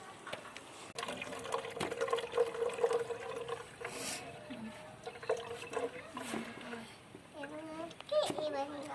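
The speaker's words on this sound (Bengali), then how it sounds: "যাই নিজে গিয়ে জলটা ভরে আসি" A bottle filled with water, running and gurgling as the pitch rises while it fills, heard close with a person talking over it.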